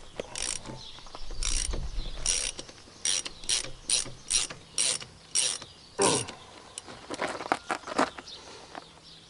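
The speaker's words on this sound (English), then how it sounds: "I'm just using a little 1/2-inch ratchet, just sort of to demonstrate the difference in power it makes" A small half-inch ratchet clicks in quick bursts as it drives a torque multiplier, each run of pawl clicks separated by brief pauses, close and clear with no talking.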